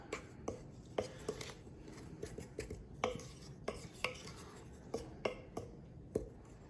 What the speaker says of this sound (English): We're gonna take a wooden spoon and we're just gonna make this mixed up here